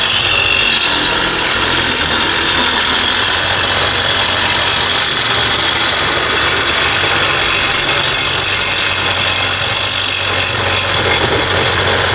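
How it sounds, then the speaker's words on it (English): A loud, continuous reciprocating saw grinds and buzzes through a car's metal exhaust hanger in a junkyard without pause, dense and harsh throughout. "I'm gonna cut the hanger on that exhaust"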